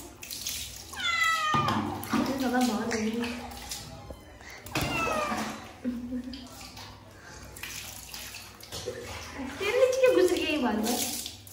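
A cat meows repeatedly and loudly in distress while being bathed with warm water, the cries rising and falling over splashing and running water, with people talking nearby.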